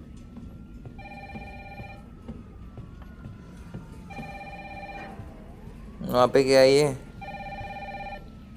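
Telephone ringing in the video game Resident Evil 3, three evenly spaced electronic ring bursts about a second long each, with a short loud burst of a person speaking between the second and third rings.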